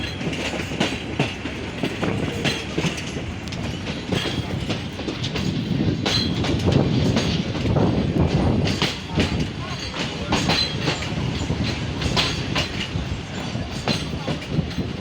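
A train rolls out of Sibi station in Balochistan, its wheels clattering rhythmically over the rail joints and growing louder, a steady loud rumble with faint squeals.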